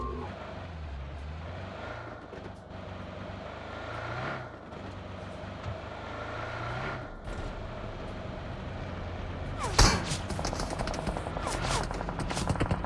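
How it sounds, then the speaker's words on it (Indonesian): Gunfire in the mobile game PUBG Mobile: scattered distant shots over a vehicle engine drone, then a louder close burst near the end. "Siapa sih nembak tuh?"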